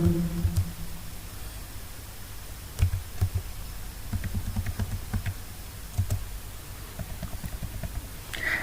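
Typing on a computer keyboard while writing code, irregular clusters of soft key clicks over a faint hiss, close by and with no talking.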